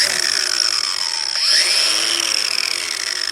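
Harbor Freight carbide cup wheel on a grinder biting into soft sassafras wood: a loud, steady high-pitched whine with a gritty rasp, dipping briefly partway through as the wheel loads, close and with no talk.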